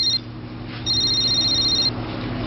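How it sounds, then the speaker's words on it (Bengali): A telephone rings in a Bengali suspense thriller film, two bursts of a bright electronic trill, one very short and one longer, over a low steady background hum. "সকাল সকাল মিনিস্টারের ফোন।"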